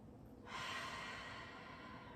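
One slow, deep inhalation during a late-night stretch routine, a soft airy rush that starts abruptly and holds steady, close and faint, with no talking.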